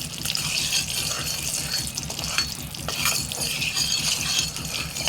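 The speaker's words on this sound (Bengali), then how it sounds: "ডিমগুলো আমি ভেজে নিচ্ছি" Eggs frying in oil in a wok with a little salt, a dense crackling sizzle mixed with stirring and scraping, steady and close, with no voices.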